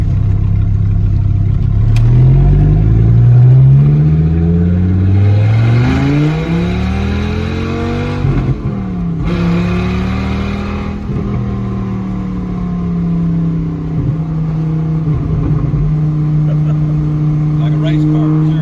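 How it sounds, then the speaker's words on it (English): A 1993 Dodge Viper RT/10 fitted with race exhaust revs and holds a wound-out engine note, rising and falling through gear changes in a loud, continuous roar that runs throughout, with a voice talking over it. "you leave it wound out and it sounds like an all-round race car, but it's got race exhaust on it"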